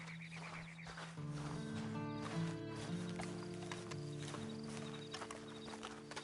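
Steady clip-clopping hoofbeats of a horse walking in Red Dead Online, set against a continuous tonal music bed, with a brief whinny-like sound near the start.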